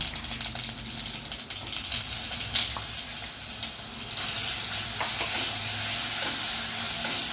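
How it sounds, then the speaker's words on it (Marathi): Ground spice paste with mustard seeds, cumin and curry leaves sizzles in hot oil over low heat while a utensil stirs and scrapes the pan, the hiss growing louder and steadier toward the end. "हा मंद अच्यावर अगदी लाल तर थोडा लालसर होईपर्यंत परतून घ्यावा"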